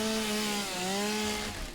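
A video game chainsaw revs steadily and loudly, its whining motor tone dipping briefly partway through before rising again, alone with no talk.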